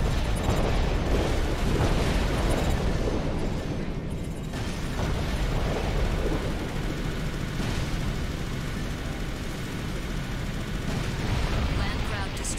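Heavy booming explosions roll on continuously in Armored Core For Answer, a dense, loud rumble with bursts layered over one another and a faint voice underneath.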